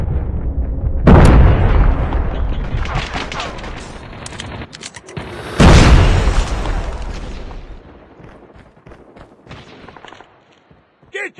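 Grenade explosion in Call of Duty Mobile, two big booming blasts about five seconds apart, loud and close, set among bursts of gunfire and combat noise with shouted voices.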